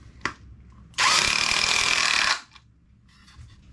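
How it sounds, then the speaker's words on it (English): A power drill whirs loudly and steadily for over a second while drilling a hole for PEX water supply lines in a basement, bracketed by a sharp click before and quieter handling noises after. "Now we got our second hole we're going to drill here."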